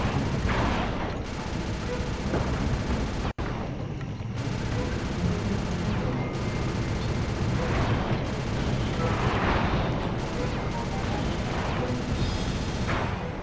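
Missile explosions rumble and crackle almost without a break in the video game Sly Cooper 2, loud and dense, with bursts swelling over a roaring background and a brief dropout near three seconds.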